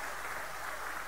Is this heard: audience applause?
yes